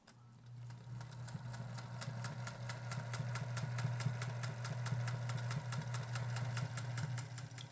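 Vintage Singer 201 sewing machine running slowly for free motion quilting, with a steady motor hum and a fast even needle clatter that keeps on for several seconds, close and without speech.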